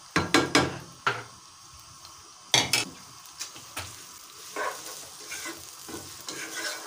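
Meat (gosht) and onions frying in a pan for arwi gosht, with a steady sizzle broken by loud scraping stirs and clanks of a utensil against the pan, close and clear.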